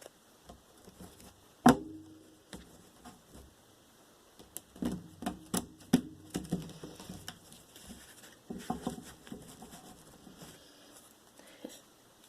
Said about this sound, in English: Seeing myself shuffle here like a blackjack dealer, huh?